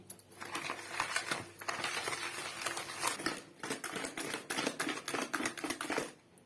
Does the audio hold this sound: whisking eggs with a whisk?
yes